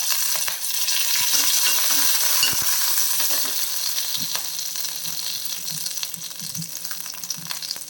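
Mustard seeds sputter and crackle in hot oil with a dry red chili and curry leaves, a steady close sizzle dotted with sharp pops and occasional stirring clinks.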